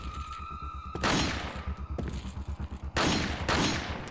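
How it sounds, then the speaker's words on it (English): Shotgun blasts in the video game Resident Evil 4: three loud, sharp booming shots roughly a second apart, each with a noisy decaying tail, over a low rhythmic game background. "Should probably use my shotgun"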